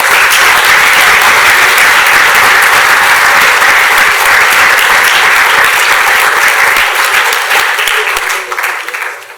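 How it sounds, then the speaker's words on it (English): A large hackathon audience at a closing ceremony gives a loud, dense round of applause, a steady wash of many hands that holds evenly and then tapers off at the very end. "So if you give them a round of applause, that'd be great."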